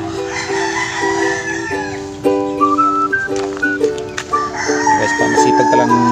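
Pet roosters crow repeatedly nearby, with long, drawn-out calls overlapping one another amid softer clucking from other backyard chickens.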